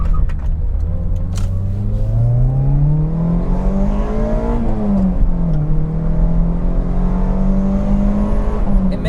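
A Peugeot 405 Mi16 engine revs up from inside the car, its rising whine climbing steadily, dipping briefly at a shift, then climbing and holding high with a hissing edge at the top of the rev range.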